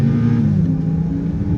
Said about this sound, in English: The engine pulls nice and strong.